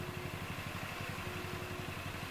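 A motorcycle engine on the road, its rapid low thrum running steadily throughout, faint against a hissing background.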